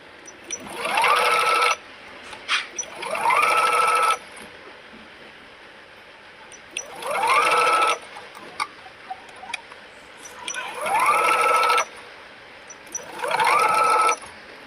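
A sewing machine stitches the neckline of a baby frock, running in four or five loud, close bursts of rapid whirring stitching with quiet pauses between them.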